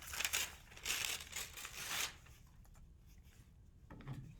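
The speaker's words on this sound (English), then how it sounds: "torn paper" Paper is torn by hand close up in three rough ripping bursts, followed by quieter rustling and a soft handling thump, with no talking.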